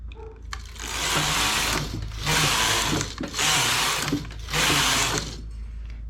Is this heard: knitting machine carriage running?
yes